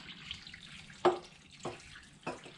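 Water poured into a crockpot over dry red beans for New Orleans red beans and rice, heard as a few short splashy gurgles spaced apart against quiet kitchen background.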